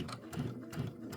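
A brief burst of a sewing machine stitching through a quilt embellishment, with a fast pulsing mechanical whir that is close and fairly quiet.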